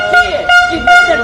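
At a political event, an air horn blasts three times in short, piercing bursts close by, each a harsh, sustained honk with brief gaps between.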